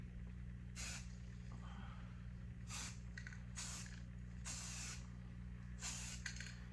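Spray can painting an aquarium black, five or six separate hissing bursts of about half a second each with pauses between them, close but faint over a low steady hum, with no talk.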